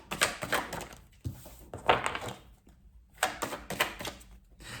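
Tarot cards are shuffled and drawn from a deck in a quick series of papery flicks and riffles. The close, crisp bursts come in three clusters separated by short pauses.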